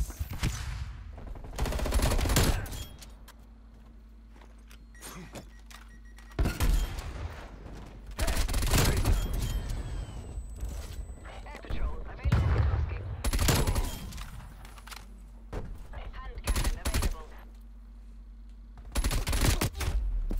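Gunfire in Black Ops Cold War multiplayer with a KSP45 burst-fire setup: repeated loud bursts of shots come in clusters across the stretch, separated by quieter game ambience.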